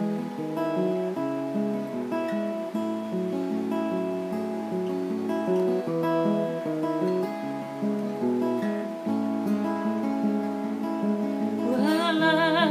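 Seagull S6 Original cedar-top acoustic guitar strummed and picked in a steady, flowing chord pattern, close and moderately soft, with a brief bright flourish near the end.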